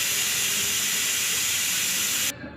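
Steam hisses loudly and steadily from a pressure cooker whistle while sambar vegetables cook, a continuous bright rush that stops abruptly near the end, leaving only a low murmur.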